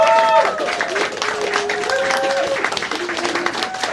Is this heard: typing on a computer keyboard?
no